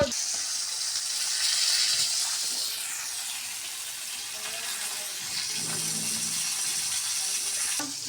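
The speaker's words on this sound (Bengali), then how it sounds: "মাছ ভাজাটা হয়ে গেছে" Steady hissing sizzle of fish frying in a pan, with occasional scraping and clinking from stirring, close and continuous throughout.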